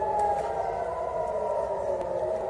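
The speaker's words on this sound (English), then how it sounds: "Oh, that's got another air raid siren going on in North Tel Aviv." An air raid siren in North Tel Aviv wails in a long, steady tone that holds unbroken throughout, carrying over faint background noise with no voices.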